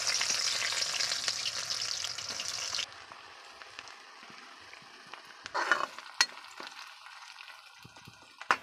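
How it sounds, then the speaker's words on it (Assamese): Onions fry with bay leaves in a pan over an outdoor fire near a pond, with a bright sizzle that fades after a few seconds, followed by sparse stirring knocks and scrapes. "এয়া পিঁয়াজ দিছে এতিয়া।"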